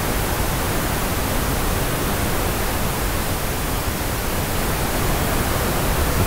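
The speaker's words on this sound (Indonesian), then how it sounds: "Pink noise-nya harus keluar kanan kiri." Steady pink noise test signal played through a mixer, a loud, unbroken hiss running evenly from start to finish.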